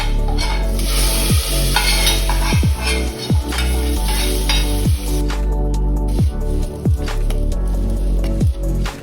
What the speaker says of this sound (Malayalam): എരിശ്ശേരിക്കകത്തേക്ക് ഒഴിക്കുകയാണ്.